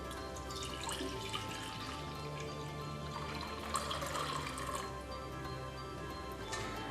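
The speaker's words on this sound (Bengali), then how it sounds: "প্রথমে দুধটা দিয়ে দিব।" Milk pouring into a clay pot while making plain yogurt, a steady liquid trickle and splash running continuously at moderate level, close by, with no talk over it.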